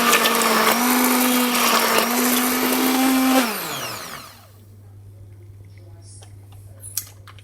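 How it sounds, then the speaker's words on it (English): A blender whirs loudly for pumpkin soup, spinning steadily for several seconds before winding down, followed by a quiet low hum and a single faint click. "Next, you need to blitz it until it goes into a pureed soup"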